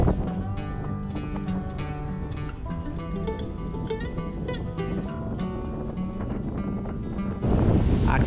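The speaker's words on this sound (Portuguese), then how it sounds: "E o vento tá fortíssimo" Strong wind roars steadily outdoors in Barnard Castle, England, buffeting the microphone in a continuous dense rumble that swells louder near the end.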